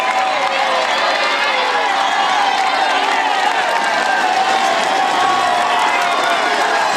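A roadside crowd at a Tour de France mountain climb roars and cheers continuously as a rider passes, loud and dense throughout with no letup.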